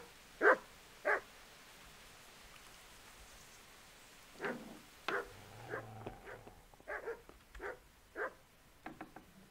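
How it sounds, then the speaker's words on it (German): A dog in the medieval video game Kingdom Come Deliverance barks in a few short, separated bursts, moderately near, over a soft steady ambient background, with scattered quieter game noises following. "Jetzt passt der Hund bestimmt auf, ne?"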